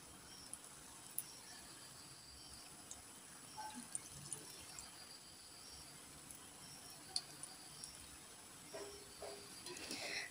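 Mysore bonda batter sizzles gently in hot oil, a soft continuous crackle and hiss with faint scattered pops, quiet and steady throughout.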